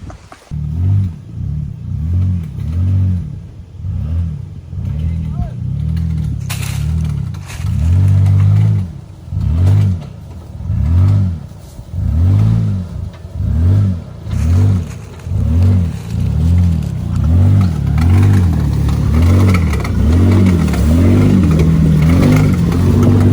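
A two-door Jeep Wrangler JK engine revs repeatedly while driving off-road, loud and close, its deep growl surging and dropping in a steady rhythm of rising pulses that gets denser near the end.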